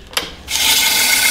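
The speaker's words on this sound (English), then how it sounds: "I'm just going to sand it" Sandpaper rubs a wood flower turning on a lathe, a steady close hiss that starts after a brief scrape and runs on without a break.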